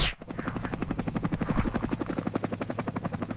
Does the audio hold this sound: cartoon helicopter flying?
yes